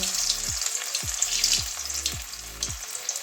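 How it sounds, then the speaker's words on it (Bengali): Small flattened fritters of tender bottle gourd leaves with poppy seeds fry in hot oil, a close, steady crackling sizzle with quick bubbling bursts throughout. "এইভাবে একটু চেপটে চেপটে করে ছোট ছোট করে তেলের মধ্যে দেবো"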